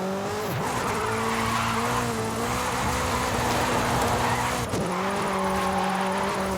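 A car drifting in Forza Horizon 5 gives off a sustained engine drone with wavering tire squeal and two sharp pitch dips as it slides, loud and continuous with no voices.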